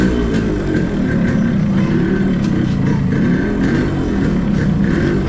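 A Yamaha RX100 motorcycle rides off, its engine a loud, constant drone with wind rush and no breaks across the whole stretch.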